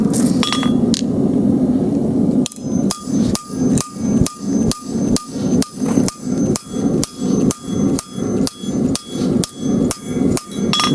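Steady, hard hammer blows ring out in a fast even rhythm as a farrier fullers a steel horseshoe on an anvil during shoeing, each strike sharp and metallic with clear ringing overtones, close and loud after a brief lead-in.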